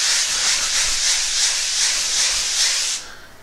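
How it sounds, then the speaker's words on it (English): Sanding sponge scrubbed over drywall in a continuous rough hissing rub with rhythmic back-and-forth swells, close up, stopping near the end, with no talk. "you come in with your sanding sponge."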